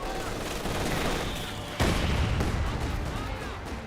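A German flak half-track opens up in Company of Heroes 2 against an enemy infantry squad, its bursts hammering together into one loud, dense barrage with a sharp heavy crack partway through.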